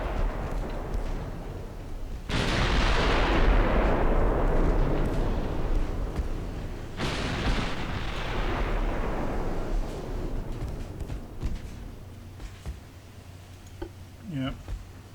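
Naval artillery in the warship game Ultimate Admiral Dreadnoughts, in a 1920 German battlecruiser engagement: two loud, deep cannon blasts, each rolling into a long rumbling decay, with lighter distant shots between them.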